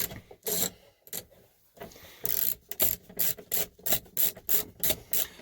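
A ratchet wrench clicks through a series of short, quick strokes, close and fairly quiet, in uneven bursts that grow more regular toward the end.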